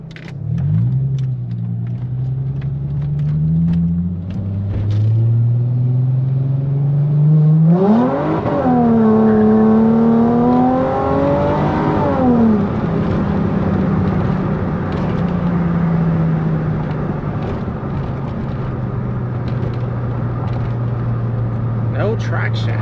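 A Chrysler SRT-6 accelerating hard on a road, its engine rising in pitch through a strong pull, then settling, with a loud, continuous rumble and faint tire noise; a person talks briefly over it.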